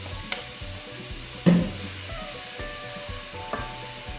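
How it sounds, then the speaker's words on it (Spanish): Chopped onion fries in oil in a pan for a sofrito, a steady low sizzle broken by a few sharp knocks and scrapes of a utensil, no talk. "Echamos la cebolla picada. Hacer un buen sofrito."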